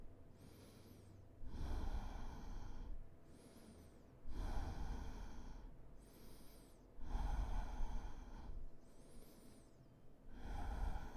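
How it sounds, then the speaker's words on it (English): Slow, deep breathing during a downward-facing yoga pose with elbows walked in, long audible inhales and exhales alternating in a steady rhythm, close and fairly clear. "Breathe here."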